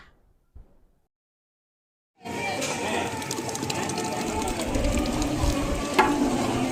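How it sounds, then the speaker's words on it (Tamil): Biryani ingredients sizzle and fry in a pot while being stirred steadily, a dense continuous crackle that starts abruptly after a quiet moment and holds close and loud, with scraping stir sounds over it. "இதை எல்லாத்தையும் போட்டு திரும்பவும் நல்லா செவங்குற வரைக்கும் ஒன்று போல் கிண்டி விடணும்"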